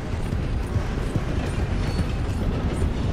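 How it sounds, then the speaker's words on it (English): A train passes in the Western open-world game Red Dead Redemption 2, heard as a steady, fairly loud low rumble of rolling cars on rails with faint clacking, continuous throughout with no talk. "Hey, there's a train."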